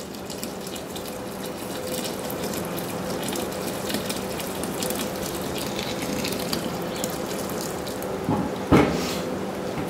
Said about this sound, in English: And there's all the water from the hot liquor tank.